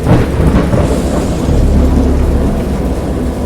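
A thunderstorm with a steady, heavy low rumble of thunder rolling continuously, rain hissing throughout, loud and close with no voices.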